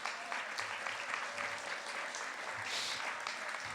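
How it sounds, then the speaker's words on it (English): Audience at a spring varsity athletic awards ceremony applauding parents, a steady dense round of clapping from a large crowd, fairly loud with no speech over it. "We need to give them a huge round of applause."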